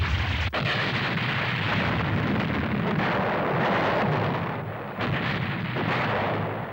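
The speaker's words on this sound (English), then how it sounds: "Fire the cannon!" A cartoon cannon fires in an animated Zorro adventure: a sharp initial crack followed by a long, loud roaring rumble that holds for several seconds, dips briefly, then surges again.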